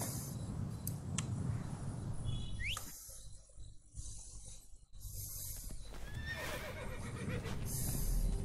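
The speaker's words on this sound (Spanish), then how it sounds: "Ahí viene el caballo." A horse whinnies in the Assassin's Creed Origins video game, one clear rising neigh near the middle amid hoofbeat-like clatter and ambient game sound, with further brief whinny calls later, no speech.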